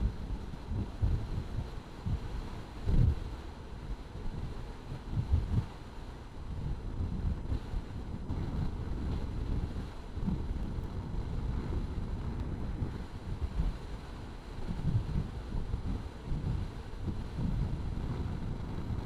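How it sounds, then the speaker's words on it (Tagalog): Strong wind buffeting the microphone while riding a motorcycle solo on the Mindoro loop; continuous low roaring rumble with gusty surges, loud and close, with no speech. "Ang lakas ng hangin!"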